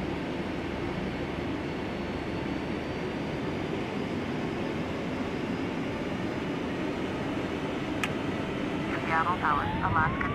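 Simulated QualityWings 757-200 airliner in a flight simulator game, its engines holding a loud, steady broadband roar throughout, with faint radio-style chatter surfacing near the end.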